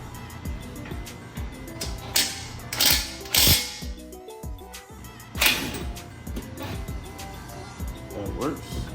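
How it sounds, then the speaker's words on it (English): A ratchet fitted with a 21mm socket works loose a brake bolt on an Audi RS5, giving close metallic clicks and clunks in short bursts amid scraping, with someone talking throughout. "What I'm just gonna do is use this 21mm socket."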